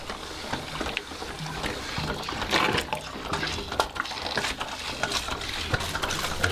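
Water is pumped through an MSR Guardian purifier into a bottle, giving steady sloshing and gurgling with rhythmic pump strokes and splashes, close and fairly loud.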